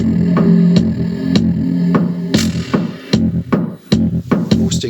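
Electric guitar run through a boost pedal emphasising highs or lows with resonance, played as a series of plucked, rhythmic notes and chords with a resonant, throbbing tone, close and moderately loud.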